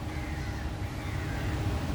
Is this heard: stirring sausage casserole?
no